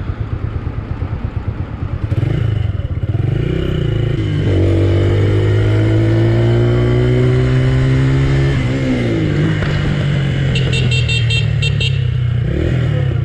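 A motorcycle rides along a seaside road, its engine loud and close, revving up through rising pitch sweeps after a rough idle start, with a brief horn-like beeping near the end.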